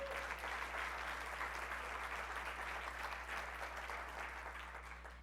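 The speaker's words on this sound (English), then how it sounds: "let's give them a round of applause too." Sustained audience applause fills a hall at a political speaking event, a steady dense clatter of many hands that holds for several seconds and only begins to thin slightly toward the end, with no talking over it.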